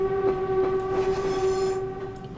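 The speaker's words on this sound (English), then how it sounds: "a weird horn. It's a weird train." An old electric train's horn sounds in a Train Simulator game on the Woodhead route, a steady tonal blast held loud and close for over two seconds over rumbling train noise, fading near the end.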